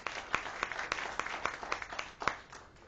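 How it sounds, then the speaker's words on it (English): A small group at a school board meeting applauds a coach with sparse, distinct claps spaced at a loose, uneven rhythm, fairly close and moderately loud. "We can give Coach Riffey a round of applause."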